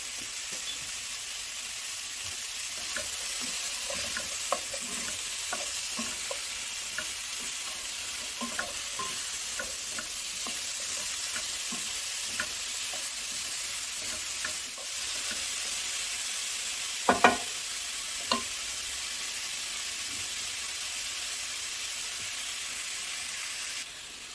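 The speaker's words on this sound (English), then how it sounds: "you can hear all the good sizzle that's going on down in the skillet" Smoked sausage sizzles steadily in a hot skillet, a constant crackling hiss with occasional spoon scrapes and pops, close up and without talk.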